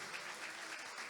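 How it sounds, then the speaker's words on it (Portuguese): Church congregation clapping in praise during a Sunday morning service, a dense steady wash of many hands applauding together, fairly loud and continuous throughout. "Louve a Deus com as suas palmas, então."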